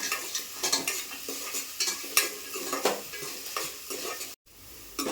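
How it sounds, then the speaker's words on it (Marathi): Onion frying in oil, browning for a Malvani chicken curry tadka, with a constant close sizzle and a regular rhythm of spoon scrapes and clinks against the pot, cut by a short gap near the end. "कांदा मस्त असा लाल करून घ्यायचा थोडा."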